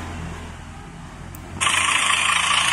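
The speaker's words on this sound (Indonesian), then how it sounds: "suara rekaman genset yang sudah saya masukkan di memori ini guys ya." Recorded generator engine sound played from a miniature genset's sound module switches on abruptly after a quiet stretch, then runs as a steady, bright mechanical rattle at close range with no one talking.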